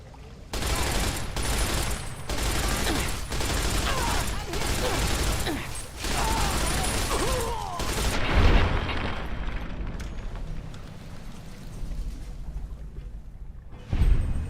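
Game gunfire from Fallout, Tale of Two Wastelands, rattles in rapid bursts with booming shots, loud and dense for the first eight seconds, then thins to scattered distant pops.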